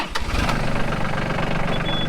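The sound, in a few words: tractor engine on a farm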